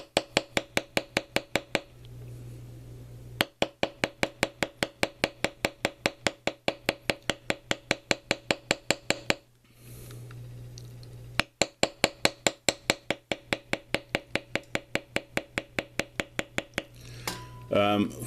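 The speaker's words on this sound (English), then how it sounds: "listen to how often the mallet taps on the tool and how far it actually moves on the leather" Rapid, steady tapping of a mallet on a leather stamping tool, sharp knocks in long runs with brief pauses between bursts.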